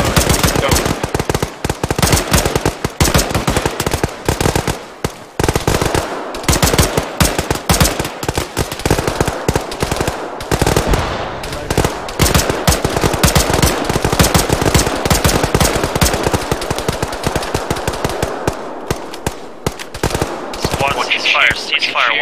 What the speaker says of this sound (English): Suppressing fire, guys. That's what I want to see.